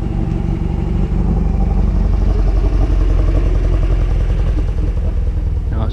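A car engine of a bit more than 1600 cc running steadily at idle, a loud, close, even rumble with a faint clattery rhythm throughout and no voices.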